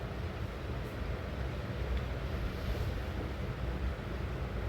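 Ground onion paste, added after garlic, fries in a pan for a Tamil taro root kuzhambu, giving a dense, steady, close-up sizzle and hiss that stays even throughout, with no talking.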